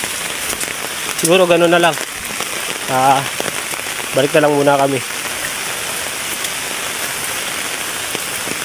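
Rain falls steadily high on a mountain trail in a constant close hiss, while someone speaks in short phrases over it.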